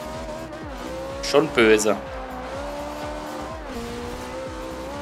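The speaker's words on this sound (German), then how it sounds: "ihr seht es ja an den Reifen, die da immer durchdrehen" A car engine drones steadily in Forza Horizon 2, driving an Italia, with a brief sharp screech of spinning tires midway, while someone talks over it throughout.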